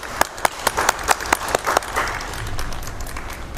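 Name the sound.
applause for graduating students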